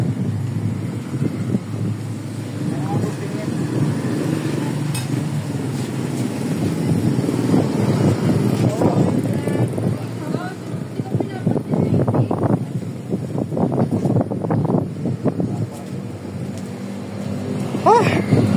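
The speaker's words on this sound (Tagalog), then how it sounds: "Oh, lakas pa ng hangin." Strong wind buffets the microphone outdoors on high ground, a rough, continuous rushing roar that rises and falls while voices talk over it.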